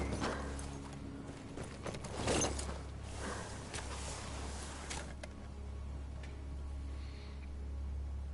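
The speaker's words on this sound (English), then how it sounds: "Look at his horse." Horse hooves clip-clop in a game scene, a faint, steady plodding of footsteps under a low constant hum and rumble, no voices.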